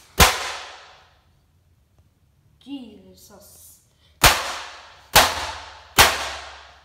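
A printer is smashed apart in four sharp, loud cracking impacts, one at the start and three in quick succession near the end, with a brief exclamation in between.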